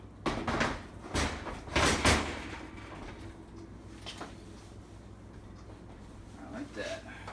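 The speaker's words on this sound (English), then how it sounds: "And lastly, let's reattach the door." An oven's glass door is fitted back onto its hinges, giving a few nearby thuds and clunks in the first couple of seconds against a low steady hum, then quieter handling noises.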